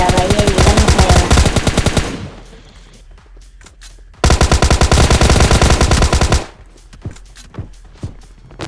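Rapid automatic gunfire from the PUBG Lite video game, two loud sustained bursts separated by a pause, followed by scattered single shots and thuds.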